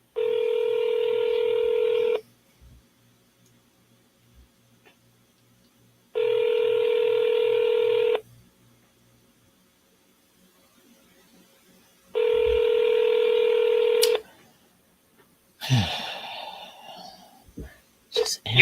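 Three bursts of telephone keypad tones, each about two seconds long and evenly spaced with quiet gaps, sound while a call to a home seller is placed, followed by faint rustling and breathy noise.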